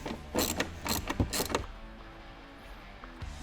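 Nuts of 15mm on the back of a vehicle seat are undone with a ratchet, producing several rapid bursts of clicking ratchet strokes, then a quieter pause with faint handling noises.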